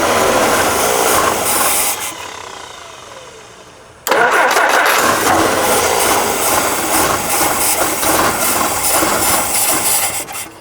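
An old Jeep CJ5 engine with a suspected fuel issue cranks and sputters, fades, then abruptly catches and runs loud and rough, revving unevenly close by.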